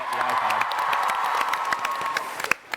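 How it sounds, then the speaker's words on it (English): Audience applause fills a TwitchCon Amsterdam 2022 convention panel hall, a steady wash of clapping with sharp individual claps and some cheering before it tapers off near the end. "That was a loud clap."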